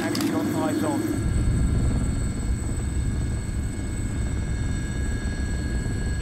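Military helicopter in flight off Somalia during an anti-piracy patrol, a loud steady rotor and engine roar that fills the whole clip, with a brief burst of voice or radio chatter at the start.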